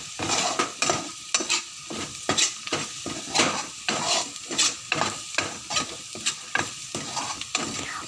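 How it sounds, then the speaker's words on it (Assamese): Onion frying with turmeric in a pan as the mixture is stirred: a rhythmic scraping of spoon against pan about once per second over a continuous close sizzle, with no talking. "হালধি দি ধুনীয়াকৈ মিশ্ৰণটো পূৰা ধুনীয়াকৈ লৰাই ল'ব"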